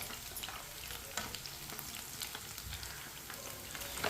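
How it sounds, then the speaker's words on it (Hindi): Chicken fries in a pan with a steady, close hiss of hot oil sizzling continuously throughout, with no voices. "आप देख सकते हैं चिकन हमारा अच्छी तरह फ्राई हो चुका है।"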